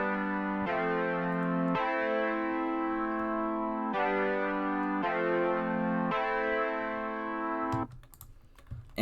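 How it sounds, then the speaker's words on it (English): Muffled polysynth chords from X-Band 2, with a slow attack and the filter cutoff turned down, play alone as four sustained chord changes of about two seconds each before cutting off into a brief scrappy noise. "The last sound is this synth that plays near the end of the beat."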